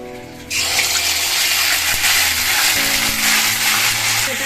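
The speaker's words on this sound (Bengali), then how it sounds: "আমি ভালো করে দু তিন মিনিট ধরে ভেজে নেব আদা রসুনটা" Ginger garlic paste hits very hot white oil and fries with a sudden loud burst of hissing sizzle that holds steady and continuous, close up, with no talking.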